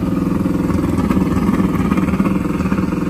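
Ford Falcon and fifth-generation Camaro, both manual-shift cars, roaring at a drag strip, a loud, steady pulsing engine drone close by with rattling undertones.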